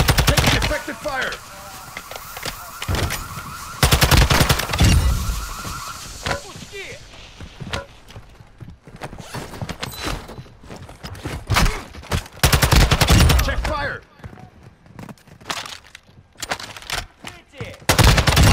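Rapid bursts of automatic gunfire and single shots in the Call of Duty DMZ video game, loud and clustered with gaps between volleys, while game voices shout callouts.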